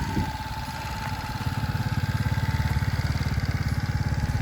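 An RKS Siesta 50cc scooter engine starts on the first press and settles into a loud, close, steady idle with a rapid even putter.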